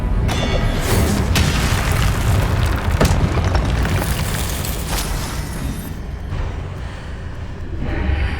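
Incendio fire spell blasts in Hogwarts Legacy, a loud continuous roaring boom with rumbling low end and sharp bursts, sustained throughout at close range with no speech.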